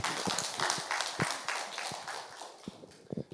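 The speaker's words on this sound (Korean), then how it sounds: "그럼 박수로 맞이하겠습니다." Church congregation applauding during a Sunday worship service to welcome a deacon coming up to give his testimony; dense, steady clapping from many hands fills the room for a few seconds without talk.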